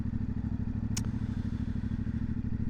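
A CFMoto 450MT motorcycle on a test ride gives a steady, pulsing mid-pitched engine drone heard close and alone, with a brief sharp click partway through.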